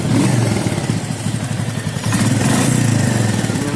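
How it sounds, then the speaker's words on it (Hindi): A Royal Enfield Meteor 350 Supernova, a petrol BS6 single-cylinder motorcycle, runs with a loud, steady, thumping exhaust note close by, briefly dipping then picking back up with a slight rev. Nobody speaks. "आइए स्टार्ट करते हैं इसको, अब देखते हैं इसका कैसा है एग्जॉस्ट।"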